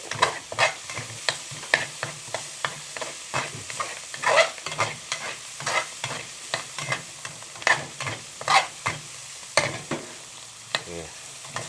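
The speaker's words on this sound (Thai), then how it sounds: "แต่ว่านี่เดี๋ยวผัดเผื่อ ตีน้อยมันกินด้วย" Eggplant with minced pork and basil being stir-fried in a wok, with steady sizzling and repeated clattering strokes of a spatula scraping and tossing the food at an uneven rhythm, close and moderately loud, no talk.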